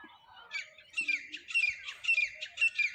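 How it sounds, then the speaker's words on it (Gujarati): Several birds, including pigeons, peacocks, sparrows and parrots gathered to eat grain, give repeated squawks and chirps in quick rhythmic bursts, fairly close and moderately loud. "ફાઇનલી કબૂતર પણ આવી ગયું છે દાણા ખાવા માટે, મોર છે, બીજા ચકલા છે, પોપટ છે"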